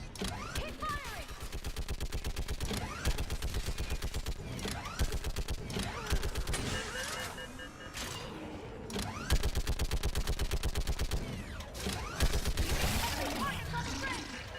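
Sustained automatic gunfire from a Mass Effect 3 battle, rapid rhythmic bursts running almost nonstop and loud, with brief pauses between volleys and faint voices underneath.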